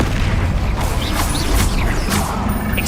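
Incendio fire spell cast in Hogwarts Legacy, a loud rumbling whoosh of flame with mechanical crackles and booming bursts filling the whole moment.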